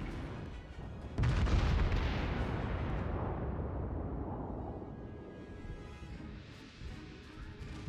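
A battleship's main guns fire in World of Warships, a loud heavy boom bursting in after a quiet second, then a long rumbling roar that slowly decays over several seconds, with no voices.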